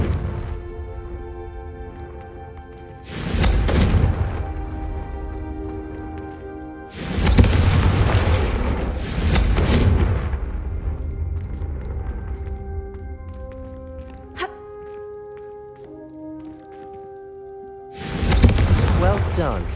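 Confringo fire spells blast in Hogwarts Legacy, a run of loud, sudden booming bursts spaced several seconds apart over steady orchestral music, with a final burst near the end.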